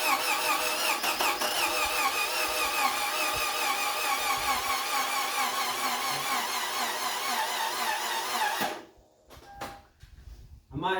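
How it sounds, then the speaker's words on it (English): Car engine cranking after a Berryman Chemtool B12 piston soak and new spark plugs, a continuous rhythmic whirring starter churn that fails to catch and stops, close and loud. "let's go start it up."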